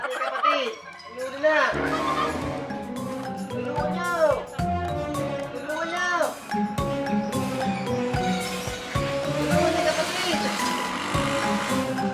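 Several turkeys gobble repeatedly at close range, their warbling calls overlapping in bursts, with some bleating animal sounds mixed in.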